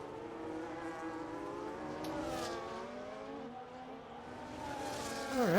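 Race cars in a sim racing league game at Monza accelerate out of the final corner, engines whining steadily with rising pitch that swells louder at the end; no talking.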